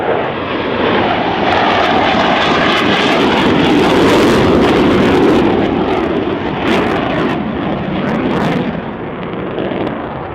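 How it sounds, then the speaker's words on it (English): Fighter jets, Mirage 2000s, make an English flyby at the RIAT airshow, a loud, continuous jet roar that swells and fades as they pass, with no voices. "Coming from your right for the so-called English flyby with"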